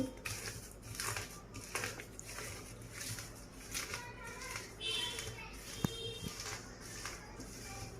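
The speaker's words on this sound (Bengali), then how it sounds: "সামান্য পরিমাণ মতো লবণ দিয়ে মরিচের সাথে এইভাবে ভেঙে নেব মরিচটা গুঁড়ো করে" Dried chili being crushed by hand with a little salt while making a smoky burnt-eggplant mash: close, irregular rubbing and tapping crunches that repeat through the clip, with faint background voices.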